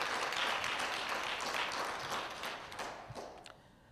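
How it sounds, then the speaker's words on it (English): Audience applause at a hip hop film event, a dense wash of many hands clapping loudly and steadily before gradually thinning and fading out toward the end. "Let's give him another well-deserved round of applause."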